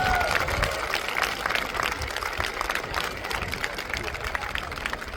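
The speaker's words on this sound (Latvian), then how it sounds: "Skaļi aplausi rekonstruktoriem!" A crowd claps and cheers for historical reenactors at an outdoor city festival in Daugavpils Fortress, with dense, steady applause from a spread-out audience and a voice speaking over it.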